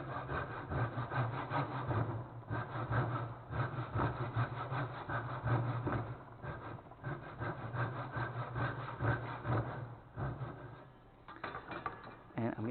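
A hand saw cuts a curve into a wooden desktop organizer piece held in a vise, making a steady, close, continuous rasping with repeated back-and-forth strokes throughout.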